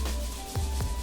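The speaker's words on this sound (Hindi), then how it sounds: "अब ये जो छन छन की आवाज है, ये सबसे इंपॉर्टेंट है। इससे पता चलता है कि आपकी भिंडी एकदम कुरकुरी है कि नहीं।" Crisp deep-fried okra seasoned with red chilli and chaat masala gives off a dry rustling crackle, with two sharper crunchy bursts near the end and no talk over it.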